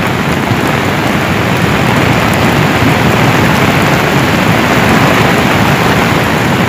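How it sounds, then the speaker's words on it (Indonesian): Very heavy rain pours down steadily as a cold lahar floodwater surge from Semeru rises, a dense, continuous loud roar of water and rainfall with no pauses or voices. "Sekarang hujan sangat lebat dan airnya semakin besar."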